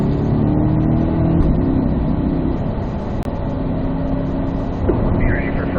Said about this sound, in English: Accelerate out. Fourth gear all the way down the hill.